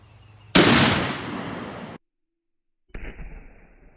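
.454 Casull revolver fired into a ballistics gel block outdoors, a single sharp, very loud blast with a decaying roar, then sudden silence and a fainter rustling of handling noise afterward.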